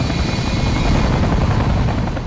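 The Dragon gunship from Avatar roars as a loud, continuous blend of turbine whine and heavy rotor chop, close and dense throughout with no voices.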